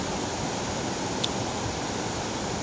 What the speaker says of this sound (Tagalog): Pulang Bato waterfalls no.